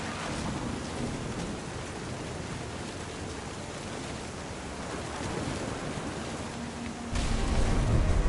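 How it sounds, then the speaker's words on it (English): Thunderstorm in the video game What Remains of Edith Finch: steady, heavy rain hiss with a low thunder rumble underneath, swelling louder in the final second. "The thunder sounded much too close and full of angry power."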